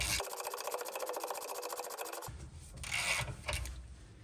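A socket ratchet loosens an 18mm nylock nut on a Seat Arona track rod end, clicking rapidly and evenly for about two seconds before a few scraping, knocking handling sounds.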